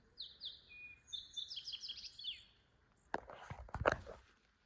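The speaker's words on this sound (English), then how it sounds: "Oh my gosh, did you hear that? The birds are singing." Birds sing outdoors in the Sequoia and Kings Canyon forest, with a few bright chirps and then quick trilling phrases nearby, followed by soft rustling and footstep-like crunches.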